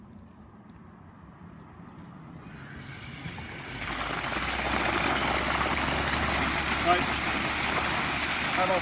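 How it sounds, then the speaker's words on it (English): An opened fire hydrant fitted with an assist valve lets water rush out. The sound starts as a low hiss, then swells into a steady, loud roar that carries on to the end, with a brief spoken word early on. "So I open up the hydrant."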